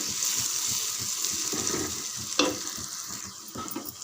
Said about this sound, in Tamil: நம்ம அரைச்சி வச்சுருக்கிற மசாலாலாம் சேர்த்துருங்க. நல்லா பொரிச்சிருக்கிறோம் பாருங்கள். இது பாருங்கள், நல்லா கலந்து விடுங்க.